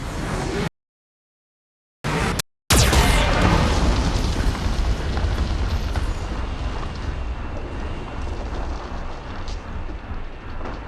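Explosions from the Geth cannon in Mass Effect 2: a loud, heavy booming blast and rumble fills the clip, cut by two brief dropouts of silence near the start, then a long rolling roar that slowly fades.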